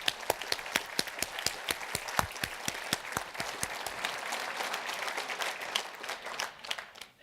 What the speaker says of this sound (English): Please join me in a round of applause for West Michigan's finest.